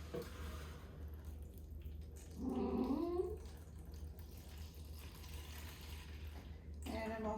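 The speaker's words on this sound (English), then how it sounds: "I'm just putting some water in the bottom of these containers so they can get a little bottom watering" Water poured into plant containers for bottom watering while potting bare root clematis, soft splashing and trickling close by, with a brief voice partway through and again at the end over a low hum.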